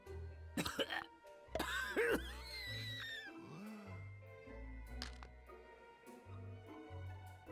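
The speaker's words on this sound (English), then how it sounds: "He has to cough." Game character in Manual Samuel coughing after breathing in with a mouthful of water, several harsh throaty coughs and a strained wheeze over a soft low musical backing.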